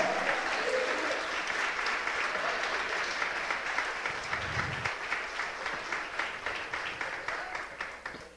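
A church congregation applauds at a Portuguese-language service, a dense sustained wave of clapping from a large crowd that gradually thins and fades toward the end.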